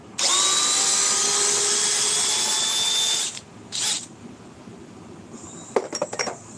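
A power drill whines steadily at full speed for about three seconds and then stops. A brief second burst follows, then clicks and short clattering taps, all close and loud.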